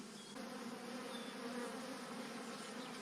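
Honey bees swarm over the open frames of a Freedom Hive nuc, making a dense, continuous buzzing hum that is close and steady throughout, with no voices.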